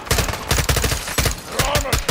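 Rapid automatic gunfire in a Modern Warfare 2 campaign battle, loud rhythmic bursts of closely spaced shots with a faint whine and shouting mixed in.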